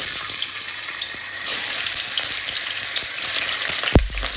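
Tofu fries in a pan with a loud, steady sizzle and crackle, capped by a sharp clatter near the end.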